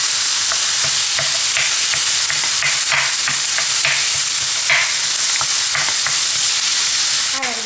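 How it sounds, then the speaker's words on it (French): Minced meat sizzles loudly in a hot pan while a utensil stirs and presses it apart, a steady frying hiss broken by repeated scraping taps, with no talking. "je rajoute par-dessus ma viande hachée, que je vais écraser comme ça pour éviter d'avoir des blocs de viande hachée"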